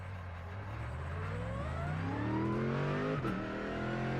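A new race car in the sim racing game iRacing revs and accelerates, its engine tone climbing steadily in pitch through the gears with a brief shift near the end, heard alone without talk.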